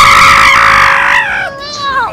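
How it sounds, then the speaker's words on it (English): A person screams on a night-time pier ride in GTA V, a loud, close, high sustained shriek that breaks and wavers toward the end. "Hang on, do you have to scream?"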